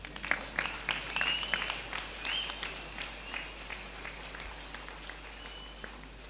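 Audience applause at a meditation gathering, scattered claps running for several seconds with a thin sustained whistle-like tone above them, moderately loud and slowly thinning out.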